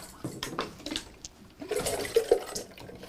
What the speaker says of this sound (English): then rinsing out these brushes real quickly